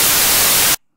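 A white noise test tone from an iPad analyzer app plays as a loud, steady hiss that cuts off abruptly near the end, leaving silence.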